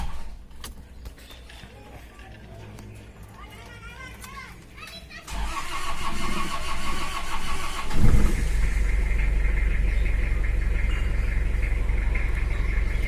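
A Toyota Kijang with a 2L diesel engine is cranked and fires up, then settles into a loud, steady, rough diesel idle; someone talks and children's voices are heard before the start.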